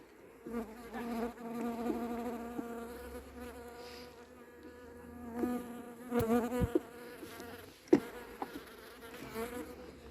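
Honey bees swarm and buzz loudly at an opened beehive during winter hive care, a steady close droning hum with a few sharp knocks and bumps against the wooden box.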